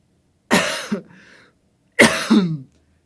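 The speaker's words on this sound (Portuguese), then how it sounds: "Eu tento evitar tossir" Two separate harsh coughs about a second and a half apart, close and fairly loud, with quiet gaps around them.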